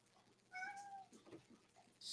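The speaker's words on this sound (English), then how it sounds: "Whose cat am I hearing?" A pet cat gives a single clear, drawn-out meow, faint and somewhat distant in a quiet room, followed by soft background noises.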